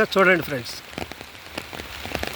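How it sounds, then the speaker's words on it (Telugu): Heavy rain pours on a tamarind tree swaying in the wind, a dense patter of drops hitting leaves and surfaces throughout, while someone speaks briefly at the start. "వర్షంలో చింత చెట్టు గాలికి ఊగుతూ వర్షం పడుతూ"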